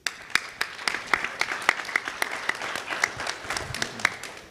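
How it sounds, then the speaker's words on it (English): Applause from a conference audience, a moderate round of clapping with distinct individual claps standing out over a steady patter, heard indoors and fairly close. "A round of applause"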